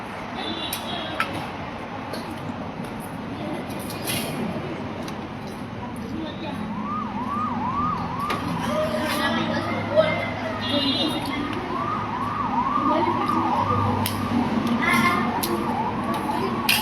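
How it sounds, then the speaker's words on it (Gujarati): An ambulance siren wails repeatedly as it passes along a street, rising over steady traffic and crowd noise while children and an adult talk nearby. "આપણને કાને એમ્બ્યુલન્સનો અવાજ સંભળાય"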